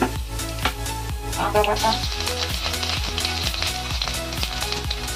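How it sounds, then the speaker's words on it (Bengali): Dried red chilli pieces and black cumin (kalo jire) sizzle as a tempering in hot oil for a jackfruit kochuri filling, a steady crackle under rhythmic background music, with a brief spoken phrase. "তারপরে এতে শুকনো লঙ্কা কুচি কুচি করে কেটে নিয়েছি, এটাকে ফোড়ন দেবো।"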